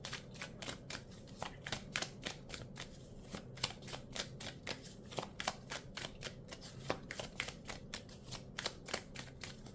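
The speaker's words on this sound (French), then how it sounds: "On va prendre une carte de la lunologie pour le conseil." Lunology oracle cards being shuffled by hand, a quick run of crisp papery riffles and rustles that repeats steadily and close up, with no talking.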